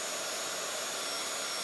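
A heating tool blows hot air over drying craft work, a steady, close, breathy whoosh of air with no talk.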